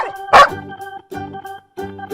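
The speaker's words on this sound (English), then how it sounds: "dog" A dog gives one sharp, loud bark followed by a couple of softer yips, all over steady background musical tones.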